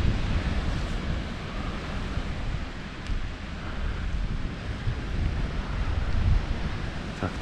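Sea waves wash steadily onto Jelitkowo beach in Gdańsk, a broad, continuous surf hiss mixed with strong gusting wind buffeting the microphone, with no one talking.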